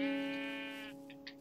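Sheep bleating in the Minecraft video game: a single drawn-out, nasal bleat lasting about a second, clear and close, followed by brief soft game clicks.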